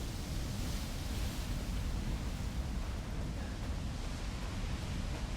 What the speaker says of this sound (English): Sweet waterfall house